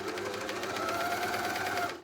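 A JUKI MCS-1500N coverstitch machine runs steadily as it sews a hem with its hemming attachment, a continuous close mechanical whir that holds for about two seconds and then cuts off abruptly.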